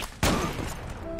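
A burst of gunfire from the Zula online shooter game erupts abruptly and loudly, a dense crackling volley of shots that fills the short moment with no voice over it.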